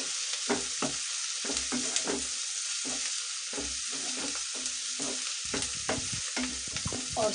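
Spices are stirred into onions frying in a pan. A spoon scrapes the pan in a steady rhythm over a continuous close sizzle.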